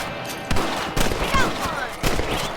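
Rifle shots in Red Dead Redemption as the player fires at thieves, several spaced cracks ringing out over continuous game ambience.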